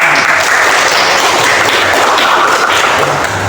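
A school class claps together in a dense, loud burst of applause that holds steady for several seconds, with no talk over it.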